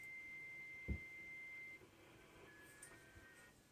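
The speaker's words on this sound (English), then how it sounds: "it's not necessary to even listen to the digital signals since it's just tones, digital tones" JT65 digital amateur radio tones play from a receiver speaker as a steady, faint sine-like beep that holds, then shifts pitch, over a quiet hiss with one brief thump.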